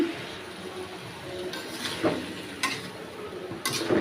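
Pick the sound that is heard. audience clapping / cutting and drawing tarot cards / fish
fish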